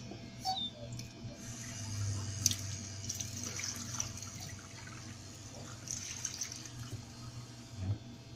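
Tap water running steadily into a lab sink while a freshly poured gel gradient is washed, a continuous close splashing stream with small irregular drips and knocks over the flow.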